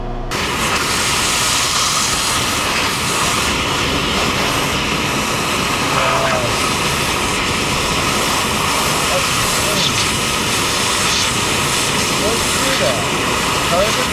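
A large engine idles with a constant roaring hiss throughout, steady and unchanging, with voices talking faintly beneath it.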